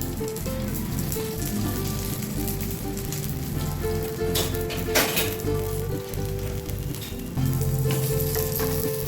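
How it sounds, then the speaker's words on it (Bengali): A folded vegetarian dish fries in refined oil in a pan, giving a close, steady sizzle with crackles, brief louder spatters, and a faint hum underneath. "আবার ভাজবো একটু রিফাইন অয়েল দিয়ে দিচ্ছি"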